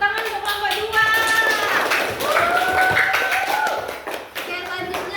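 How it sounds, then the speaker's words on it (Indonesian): A classroom of students claps for group 2, a busy patter of many hands mixed with children's voices and chanting that runs almost the whole time before easing off near the end. "Tepuk tangan untuk kelompok 2"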